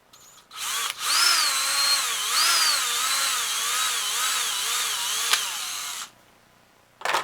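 A power drill whines steadily for several seconds while boring a hole in PVC, its pitch rising and falling as it bites in, then stops abruptly.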